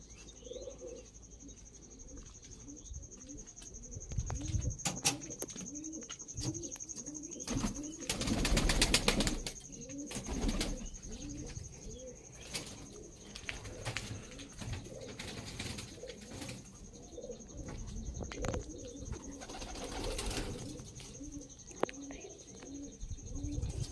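A pair of Sylheti pigeons coo repeatedly in soft, rolling calls, close by and steady, with occasional wing flaps and chirps from other birds, under a constant high whine.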